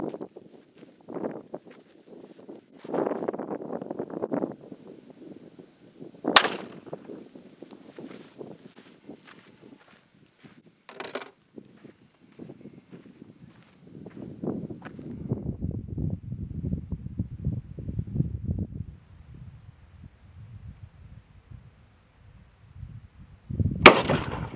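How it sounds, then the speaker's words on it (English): A .380 auto pistol firing a Hornady Critical Defense 90-grain round into a 10-pound clay block outdoors: a sharp crack stands out among wind noise and faint footsteps, with another brief bang later. "Getting ready to shoot at this 10-pound block of clay with a 380 auto."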